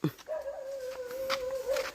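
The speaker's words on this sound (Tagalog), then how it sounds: "Galit yung aso." A dog in a coconut grove gives a sustained, steady whining whimper lasting most of the moment, close and fairly clear, with faint background noise.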